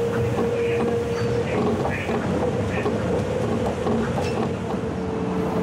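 A Tokyo Monorail train runs along its elevated track, giving a steady loud rumble and rolling hum with a sustained tonal drone and faint clicks, continuous for the whole stretch with no voices.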